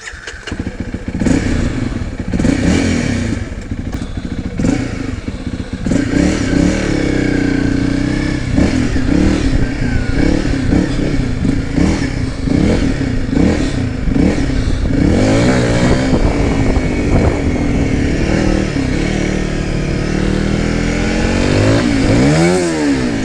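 A Honda CRF 300L dual-sport motorcycle starts and rides off, its single-cylinder engine running loud and close throughout with repeated revving and gear changes, plus occasional clunks and wind rush.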